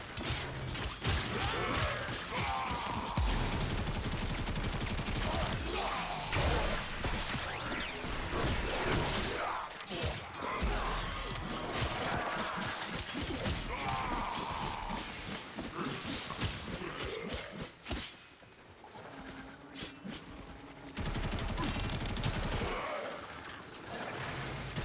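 Rifle fire in the Warframe video game, dense rapid bursts of loud shots layered with clattering game effects, continuing almost without pause.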